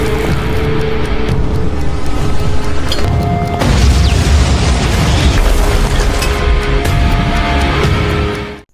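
A gas tank explosion in a film scene: a loud, sustained roaring blast with rumbling low end and crackling debris, continuing for several seconds before cutting off abruptly.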